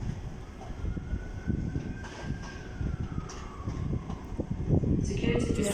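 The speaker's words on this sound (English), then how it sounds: "Fighting now is the 1719 ScotRail service to Alloa and Dunblane." A ScotRail passenger train rolls through a station on the service to Alloa and Dunblane, giving a steady rumbling wheel-and-rail roar with a faint sliding tone, heard at moderate distance and building slightly toward the end.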